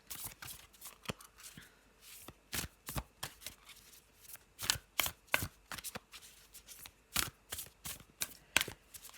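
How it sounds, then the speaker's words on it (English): Nature's Whispers oracle cards shuffled by hand at close range, giving a steady series of short, sharp slaps and riffles at an uneven rhythm, with no talking. "So let me just have a shuffle of our oracle cards, the Nature's Whispers cards."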